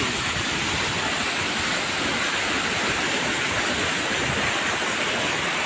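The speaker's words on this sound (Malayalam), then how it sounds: "ഇതാണ് രണ്ടാം വെള്ളച്ചാട്ടം" Steady, loud roar of falling water from Thusharagiri waterfall, a dense continuous rush with no voices or breaks.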